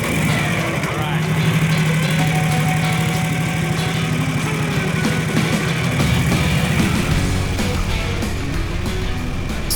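A 90-year-old motorcycle on the road toward the Tail of the Dragon, its engine running with a steady loud mechanical drone and chugging note close to the mic, with someone talking over it.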